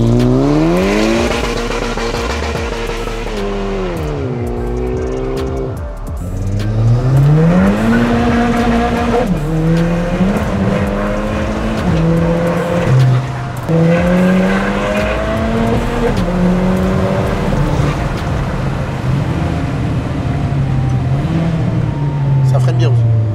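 Golf 5 GTI Edition 30 on a road test, its engine note rising and falling steadily through gear changes from inside the cabin, with people talking over it throughout.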